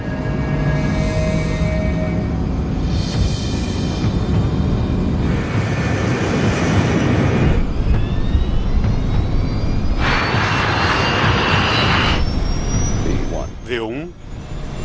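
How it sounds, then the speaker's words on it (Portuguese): A DC-8 jet airliner accelerates down the runway for takeoff with loud, sustained jet engine roar that swells and shifts, while cockpit voices talk over it. "O DC-8 acelera para a velocidade de decolagem."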